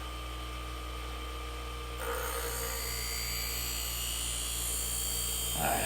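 A Twice as Sharp wheel sharpener works on grooming scissors, raising a burr. It gives a steady motor hum with a high grinding whine that jumps louder about two seconds in and holds near and constant to the end.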